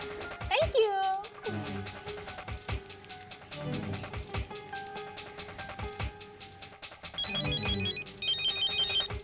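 A phone's ringtone plays as a bright electronic melody in a family home, with a cartoonish sliding tone early on and repeated chiming patterns that grow louder near the end, while people talk underneath.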